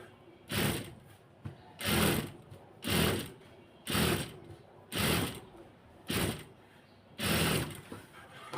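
A sewing machine stitches a princess-cut blouse in seven or eight short, evenly spaced bursts of rapid mechanical clatter. Each burst is separated by brief pauses.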